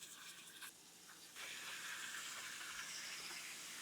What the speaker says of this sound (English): So now we're gonna start with the searing.